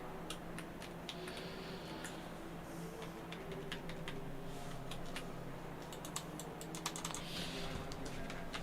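Steady, fairly quiet clatter of a computer keyboard being typed on at close range, irregular key clicks running continuously over a low background hum, no speech.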